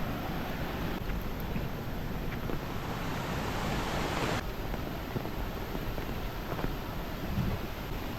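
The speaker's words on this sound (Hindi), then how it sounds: "ये है सामने छोटा सा वाटरफॉल" A small jungle waterfall pours steadily nearby, making a constant broadband rushing hiss of falling water with no voices over it.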